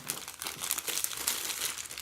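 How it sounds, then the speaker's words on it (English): Shrink wrap peeled off the box of a NURSAL white noise machine alarm clock, a close, continuous crinkling and crackling of thin plastic with uneven bursts of rustle. "So that's the shrink wrap removed from the packaging."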